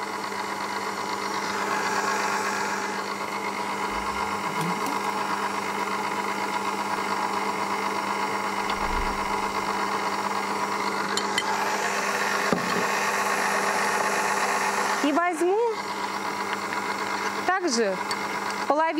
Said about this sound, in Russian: Пока сбивается у меня здесь вот жидкая составляющая